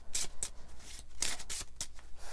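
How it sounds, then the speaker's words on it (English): Close, soft riffling and shuffling of a Peculiar Fragments oracle card deck, a series of quick papery swishes and flicks in an irregular rhythm, with no voices. "we're going to be shuffling through my Peculiar Fragments Oracle deck"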